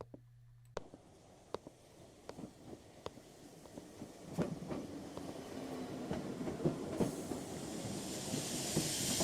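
A theme park train at Thorpe Park rolls along with rhythmic clicks and clacks over the rails, the rumble and hiss growing gradually louder and nearer throughout.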